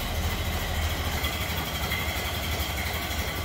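A 1931 Ford Model A pickup's 201-cubic-inch four-cylinder engine idles with a steady, even low chugging, close by and moderately loud, with no voices.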